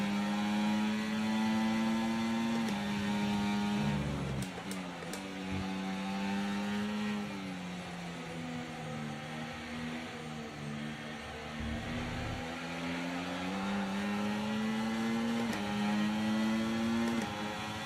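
A high-revving Formula 1 car engine in the game F1 24 drones continuously, its pitch rising and falling through gear changes, steady and fairly loud with no voices.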